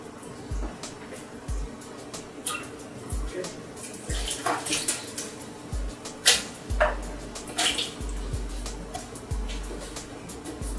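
Fish stock ingredients tumble into a pressure cooker pot in a series of splashy thuds and clatters over running water and kitchen background noise.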